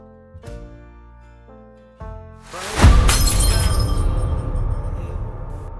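A costly glass perfume bottle shatters after a soft musical intro, a loud sudden crash followed by a long spray of tinkling fragments.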